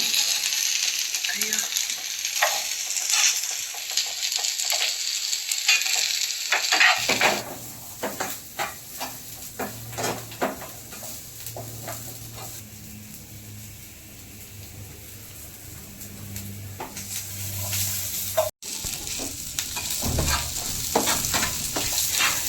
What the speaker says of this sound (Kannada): ಆಯಿಲ್ ಹಾಕ್ಕೊಂಡು ಅದಕ್ಕೆ ನಾವು ಆವಾಗಲೇ ತೊಗೊಂಡಿದ್ವಲ್ಲ ಚಕ್ಕೆ ಮತ್ತು ಲವಂಗನ ಸೇರಿಸ್ಕೊಂಡು ಫ್ರೈ ಮಾಡ್ಕೊತಾ ಇದ್ದೀವಿ